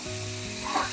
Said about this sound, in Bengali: আমি 5 মিনিট মতো এই মশলাটাকে কষিয়ে নেব